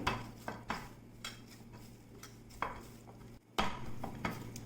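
Sticky pizza dough being mixed by hand, with irregular soft slaps and squelches close up as the hand works and folds it; no voices.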